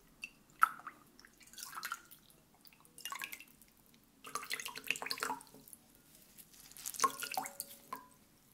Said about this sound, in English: I'm just gonna put it into this warm water.